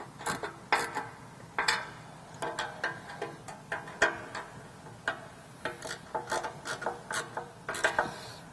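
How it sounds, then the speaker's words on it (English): A 3/8 socket ratchet tightening bolts on an aluminum rear bumper for a Jeep JL, with steady, close clicking strokes repeating in short bursts throughout and no talking. "Now we're going to go ahead and use a 3/8 socket and tighten these in place."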